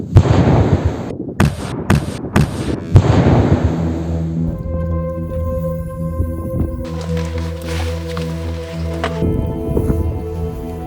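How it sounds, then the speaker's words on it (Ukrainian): Loud crackling bursts and booms of a mine explosion, followed by a sustained rumbling, ringing tonal noise that slowly fades. "Вибух!"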